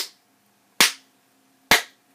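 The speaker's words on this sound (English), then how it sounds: "clap 3 times like this" Three sharp hand claps spaced evenly, each crisp and close with a quick decay into near silence between them.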